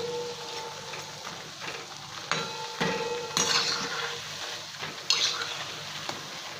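Methi (fenugreek) bhaji fritters fry in hot oil on a medium gas flame, giving a soft continuous sizzle broken by a few sharp clinks and scrapes of a utensil against the pan.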